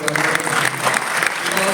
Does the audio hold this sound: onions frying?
no